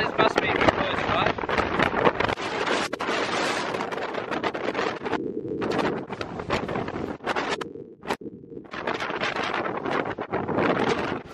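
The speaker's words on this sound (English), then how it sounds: "Yeah, it's windy." Strong wind near the summit of Lion's Head, Cape Town, roars and gusts in heavy bursts against the microphone, briefly dropping away a few times, while people speak through the noise.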